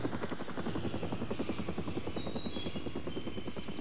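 A helicopter in the Xbox game Far Cry Instincts passes overhead, its rotor chopping in a fast, steady rhythm with a whining turbine on top, fairly close and continuous with no voices.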